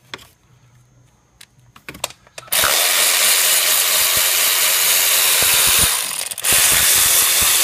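Ratchet on the belt tensioner of a 2006-2008 Audi A4 2.0T during timing belt work, a few sharp clicks at first, then a loud, continuous, close whirring that runs to the end with a brief dip near the end.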